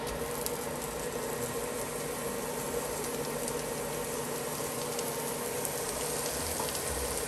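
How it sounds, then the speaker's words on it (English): Jalapenos and onions sizzle with bacon in a skillet, a loud, constant crackling fry that holds steady throughout. "In go the veggies, jalapenos and onions."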